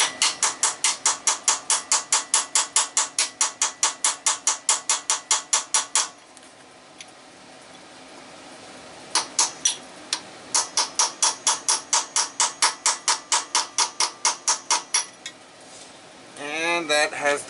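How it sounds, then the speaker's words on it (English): A hammer strikes the flange of a car distributor in rapid, regular metallic taps, a long fast burst, a pause, then another run of close, sharp blows and a final scraping clatter. "Little hammering on the flange."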